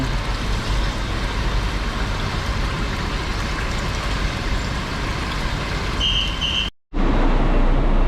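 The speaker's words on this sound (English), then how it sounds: "Here's our ride home, coach, 24-seater" A 24-seater coach bus rumbles with a steady, loud engine and road roar close by, a brief cutout near the end before the drone resumes.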